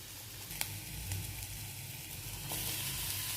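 Turmeric and small pieces of snake gourd being sautéed in a pan give off a soft, steady sizzle with a sharp clink from the utensil, and the frying noise swells slightly near the end.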